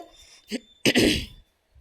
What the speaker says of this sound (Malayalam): ഭയങ്കര ചുമ വന്നുകൊണ്ടേയിരിക്കുകയാണ്